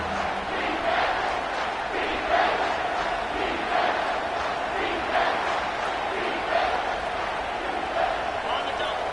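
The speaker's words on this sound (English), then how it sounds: "Big third down as the crowd gets behind this defense." Football stadium crowd roaring behind the defense on a third down, a dense, steady wash of cheering and shouting with periodic swells, heard at a distance under a broadcast commentator's voice.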